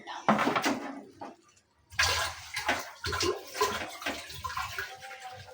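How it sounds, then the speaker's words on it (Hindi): Water being poured into a pan of chana dal, a gushing splash that stops briefly and then resumes as a sizzling, bubbling pour. "अभी हमने इतना पानी डालना है कि जो कसर रह गई थी ना हमारी वो ख़त्म हो जाए"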